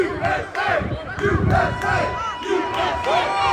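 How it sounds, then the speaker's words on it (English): An audience at a live debate recording cheers and shouts, loud rowdy crowd voices rising and falling in bursts with applause mixed in. "And I want to give the biggest round of applause."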